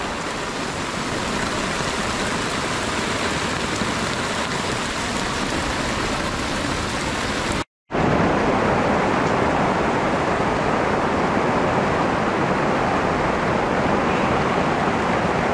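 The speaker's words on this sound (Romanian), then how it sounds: "Plouă de rupe." A heavy rainstorm in the mountains pounds down as a dense, steady roar of water, loud and unbroken apart from a brief cut midway, with no voices.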